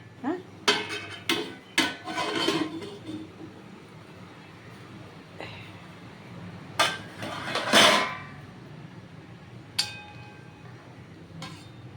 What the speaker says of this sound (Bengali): এইবার আমি ঢাকটা খুলে দিলাম